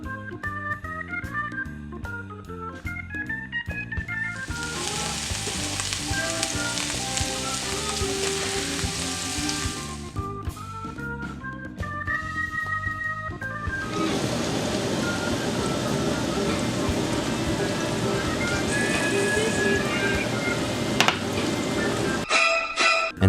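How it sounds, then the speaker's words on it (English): Pineapple pieces sizzle and hiss in an oiled pan as they are stirred, in two long, steady stretches of frying noise, with music playing throughout. "Add pineapple and season with salt and pepper. Cook while stirring until browned and caramelized"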